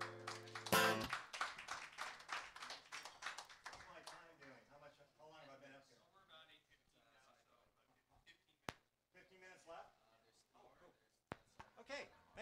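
After a song at a coffeehouse songwriter night, a small audience claps in a brief burst of sharp, close hand claps that fades within a few seconds, followed by someone talking quietly.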